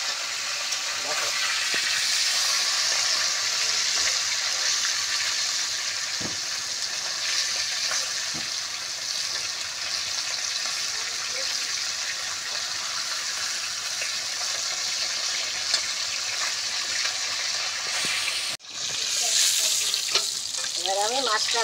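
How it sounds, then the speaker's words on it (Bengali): Bhola fish, a trout barb, fries in oil over a wood stove with a steady, loud sizzle that runs unbroken and drops out briefly near the end. Occasional light clinks of turning the fish come through, and there is no talk. "এবার আমি মাছটা উল্টে পাল্টে দিচ্ছি। দেখো কেমন ভাজা হচ্ছে।"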